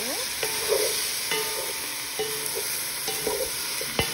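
Chicken adobo in soy sauce being stirred in a pan, a low sizzle under repeated clacks and scrapes of a utensil against the pan at irregular intervals, with no talking.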